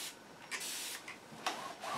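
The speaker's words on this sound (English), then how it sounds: "I'm just going to spray this quick." Spray can misting fixative over an acrylic portrait sketch: several short hissing bursts of varying length, close and fairly quiet, separated by brief pauses.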